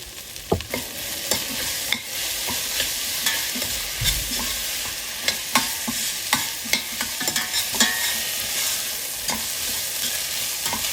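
Ginger garlic paste fries in a hot pan, a steady bright sizzle running throughout, broken by frequent scraping knocks of a spoon stirring against the pan, close and fairly loud with no voices.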